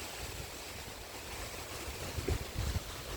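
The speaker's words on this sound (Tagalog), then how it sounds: "sobrang lakas ng hangin" Strong typhoon wind from Typhoon Kristine gusts outdoors by a house and road in Bohol, a steady roar of rushing air buffeting the microphone, with heavier low gusts near the end.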